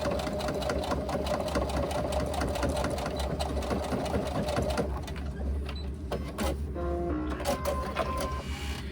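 A sewing machine bastes a narrow 1/8 inch seam through layers of a laptop bag, a steady loud mechanical whir for about five seconds before slowing into softer, intermittent clicks and short bursts.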